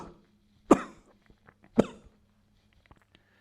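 A person coughing twice, two sharp, close, forceful bursts about a second apart, each with a brief raspy tail, followed by faint breaths and small clicks in an otherwise quiet room.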